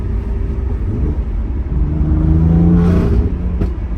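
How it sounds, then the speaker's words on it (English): A BMW F80 M3 with a six-speed manual, Eventuri intakes and MHD tune revving hard from inside the cabin, a loud steady engine drone climbing in pitch then easing off, no talking. "when I just gave it gas right there, my RPMs literally jumped"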